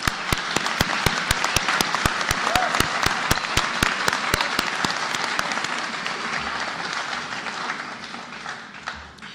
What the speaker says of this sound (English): If we could all give Mr. McQueen a round of applause